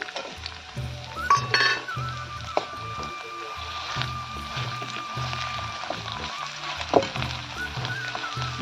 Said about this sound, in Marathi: कांदा आपला होत आलाय मस्त असा कलर आलाय कांद्याला यात टाकूया आपण केलेले वाटण